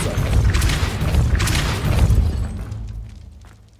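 A Depulso force spell cast in the video game Hogwarts Legacy, a loud booming, shattering burst that rolls on for a couple of seconds and then fades away to quiet.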